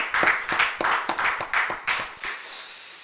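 A church congregation at a Friday late-night prayer meeting claps in unison, about eight strong, evenly spaced claps that then fade into a soft hush.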